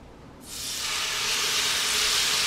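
Octopus jeotgal hits a pan over low heat, bursting into a loud, steady hiss and sizzle that holds with no talk.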